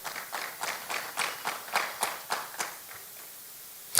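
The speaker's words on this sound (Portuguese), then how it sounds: "Você pode aplaudir o nome de Jesus por isso?" Church congregation clapping at a worship service in a slow, rhythmic beat of about ten claps, fairly faint and roomy, ending in a brief sharp sound.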